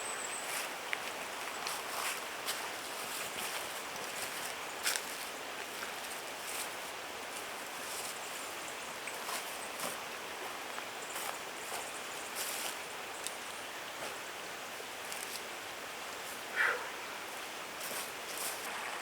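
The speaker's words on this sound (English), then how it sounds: "I get to listen to those waterfalls as I sleep" Waterfalls and a stream rush steadily near a trailside campsite, a constant broad wash of water with no break and no one speaking.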